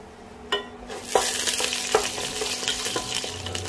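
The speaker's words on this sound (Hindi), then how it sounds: "सारे खड़े मसाले ऐड कर देते हैं।" Whole spices sizzle and crackle in two spoonfuls of hot oil for chicken biryani, a steady frying hiss broken by a few sharp pops and stirring scrapes, close and fairly loud, with no talking.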